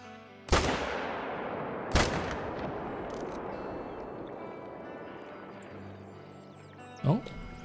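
Two loud rifle shots ring out about a second and a half apart while hunting a whitetail buck in a video game at Layton Lake, each blast trailing off into a long echoing tail, with a brief voice near the end.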